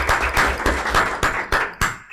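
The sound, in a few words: applause for a speaker at a seminar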